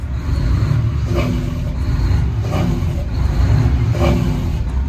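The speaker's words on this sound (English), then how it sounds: "Engine brakes are good. Listen to this." A Freightliner truck's engine rumbles loudly and steadily, with a low, throbbing drone and a few rising surges as the engine brake holds.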